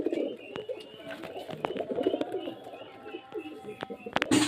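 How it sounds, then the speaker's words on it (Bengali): Red-bordered fancy pigeons give repeated low, throaty coos nearby, while someone talks over them and some clicks and scuffles break in near the end. "এই যে দেখুন কোয়ালিটি পায়রার লাল বর্ডারের পায়রা দুটোই দেখতে পাচ্ছেন"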